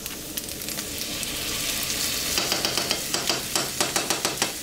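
Tomato paste and garlic paste sizzle in a hot pan for keto spaghetti, a constant frying hiss that becomes punctuated by rhythmic stirring scrapes toward the end.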